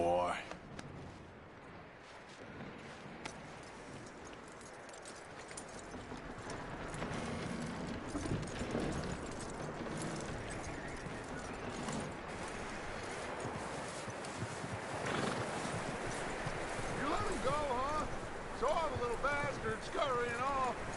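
Horse hooves clip-clop at a walk in Red Dead Redemption 2, soft, steady footfalls beneath game music and ambient sound, with a voice speaking near the end.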